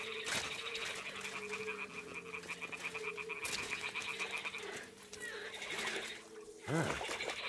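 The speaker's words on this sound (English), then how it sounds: "Ah, the toads are croaking." Toads croaking in the video game Kingdom Come: Deliverance 2, a continuous chorus of rhythmic, rattling croaks at moderate distance, with a horse whinny and brief water sounds near the end.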